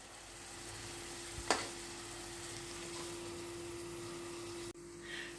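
Food being stirred in a pan, a steady sizzling hiss with a constant hum throughout, one sharp clunk of the utensil near the start and a brief scrape near the end.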